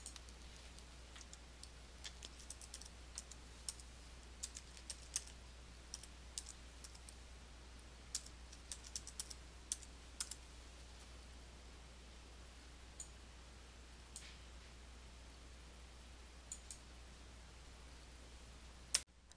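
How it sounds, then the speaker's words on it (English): Computer keyboard typing, a sparse run of light, sharp key clicks at an uneven pace that ends with a firmer Enter keystroke, heard alone in a quiet room. "made by pressing the Enter key at the end of each line in the list"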